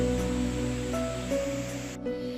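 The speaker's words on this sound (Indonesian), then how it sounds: "Air terjunnya cukup besar, airnya juga banyak, deras." A large waterfall pouring a heavy volume of water, set among dense trees beside a river, gives a steady, unbroken broadband roar that stays loud and continuous throughout, with no talk over it.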